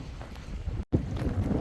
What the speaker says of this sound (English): Crazy how windy it is today